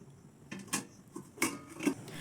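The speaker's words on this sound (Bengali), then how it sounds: "আবারও ওপর থেকে ঢাকনা চাপা দিয়ে দেব" A cake tin holding rice-flour batter is set into a cooking pot on the stove and a metal lid is pressed on top, giving a few light clinks and scrapes of metal on metal, close and fairly quiet, with no talking.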